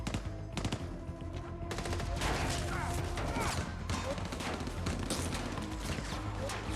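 Rapid bursts of gunfire and loud impacts from the action film Nobody (2021) crackle in dense volleys, layered over a thumping movie soundtrack.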